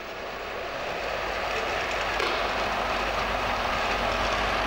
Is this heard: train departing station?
yes